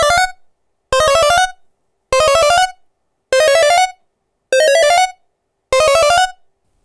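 Six short square-wave blips from an ELZ_1 synth repeat at a steady pace, the duty cycle changing so their thin, reedy timbre shifts from note to note, with brief silences between.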